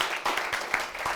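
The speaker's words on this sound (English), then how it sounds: "Another round of applause, Second City, guys." A live audience applauding at the Second City Studio Theater, a brief, fairly soft patter of many hands clapping with a few distinct sharper claps standing out.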